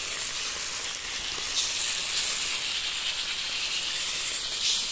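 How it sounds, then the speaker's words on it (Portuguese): Seasoned meat fries in a pan on a home stove, giving a steady, close, bright sizzling hiss that runs unbroken and fairly loud with no talking. "Aí eu vou deixar fritar aqui."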